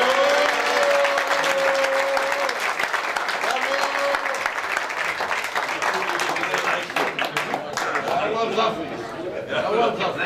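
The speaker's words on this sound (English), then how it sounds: "let's give him a round of applause" Applause for a governor fills a Rotary district conference hall in Aqaba, Jordan, steady and loud for about ten seconds, with crowd chatter and a voice speaking over it early on.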